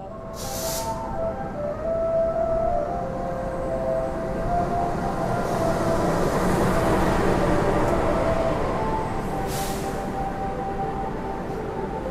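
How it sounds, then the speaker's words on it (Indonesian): The Harina express train in Indonesia rumbles past steadily, a continuous roar of wheels on rails with a tonal hum, rising toward the middle and lasting throughout. "kita bakal bertemu dengan kereta lain ya, yaitu kereta api Harina"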